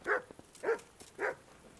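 Dog barking in the video game Kingdom Come: Deliverance, three separate barks about half a second apart, moderately loud and alone with no talk.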